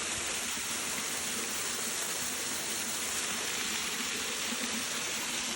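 A small waterfall found on a hike, heard as a steady, full-bodied rush of falling water close by, continuous and alone without voices.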